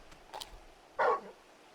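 Torgal, the large dog in the video game Final Fantasy XVI, gives a single short, faint bark, preceded by a couple of soft ticks in an otherwise quiet moment.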